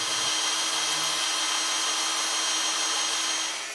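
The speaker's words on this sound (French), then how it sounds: "Quand les soudures sont enlevées, il faut percer les trous." Power drill boring holes while replacing cabin soffits, a steady loud high-pitched whine that holds constant throughout and tapers slightly at the end.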